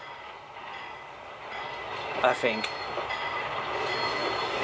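Trainz train wagons roll along rails with a continuous rumble and clatter that slowly grows louder, and a man's brief words come in over the noise near the middle.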